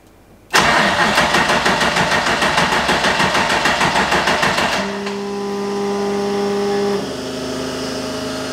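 A Nissan Silvia engine cranks over rapidly for several seconds, then fires and settles into a steady, loud idle with a slight rise in pitch, close by with no talking.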